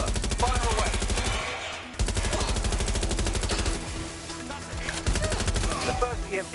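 Rapid bursts of video-game gunfire fired at exposed weak points after an EMP blast, dense and loud with brief pauses, layered over a busy game soundtrack.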